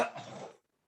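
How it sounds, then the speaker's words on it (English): A single short, raspy cough, faint and close, that cuts off into silence during a live fantasy football Q&A stream. "All that coughing"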